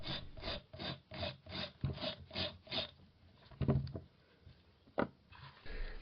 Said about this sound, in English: I'm just going to use a nail file, scrape it against the edge just to smooth off any bits that are overhanging